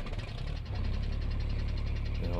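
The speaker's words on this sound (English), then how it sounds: "I know how much you guys love this tractor." A tractor engine runs in a farming simulation game with pig and corn crop work, a steady, close, low rumbling drone with a faint rhythmic knock and no talking.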